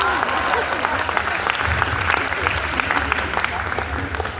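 An audience at a Hindi poetry recital applauds steadily and fairly loudly throughout, a dense wash of clapping from the crowd.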